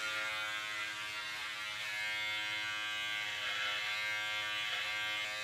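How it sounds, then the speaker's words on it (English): A Philips electric beard trimmer cuts through a beard at a 12 mm setting, giving a steady close-up motor buzz that runs unbroken throughout, with no talking. "So I'm using a Phillips beard trimmer."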